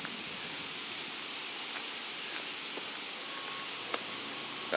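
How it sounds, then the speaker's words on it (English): Big Spring at Big Spring State Park gives off a faint, steady rushing hiss of flowing water heard from a distance, with a few soft clicks and no voices. "You can hear this spring before you even get to it"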